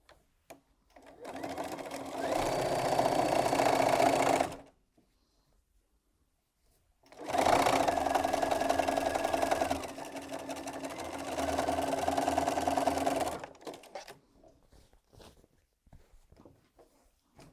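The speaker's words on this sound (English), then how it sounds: "I'm going back to the machine now, and I'm going to sew the top and bottom on first of all" A sewing machine stitches a quarter-inch seam on a cushion made from mini charm quilting squares, running in two long steady bursts with a short pause between, close and loud with no talk.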